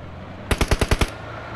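A close, loud burst of six rapid gunshots rings out in the mobile battle-royale game PUBG Mobile, evenly spaced over about half a second with quiet before and after.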